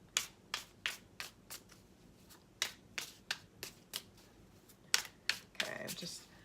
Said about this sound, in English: Okay, now I'm gonna start actually shuffling.